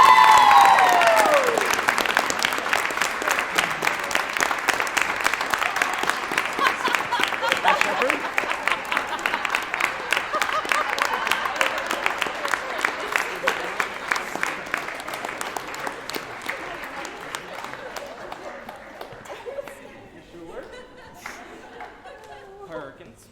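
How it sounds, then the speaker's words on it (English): A high school theater audience applauds the crew after a full performance of 'Arsenic & Old Lace'. The clapping is loud and sustained, with laughter and chatter mixed in, then thins out to a few scattered claps near the end. "So give them a round of applause."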